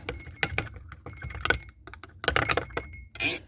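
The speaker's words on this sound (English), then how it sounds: "I'm going to go ahead and pull this out, give her a quick stir" Melted plastisol for Senko soft-bait molds is stirred in a container, giving sharp, irregular clinks and taps of a utensil against the sides over a low background hum.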